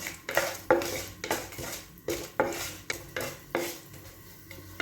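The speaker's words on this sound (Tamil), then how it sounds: "வெந்தயம் ஒரு 10 கிராம் அளவுக்கு வெந்தயம், அதில் ஒரு 12 பீஸ் காஞ்ச மிளகாய் அப்படியே நம்ம வறுத்து எடுத்துக்கலாம்" A spatula scrapes and tosses about 10 grams of fenugreek seeds and 12 dried red chillies dry-roasting in a pan for tamarind rice, with a steady run of close, rhythmic scraping strokes and light metallic clatter. No one speaks.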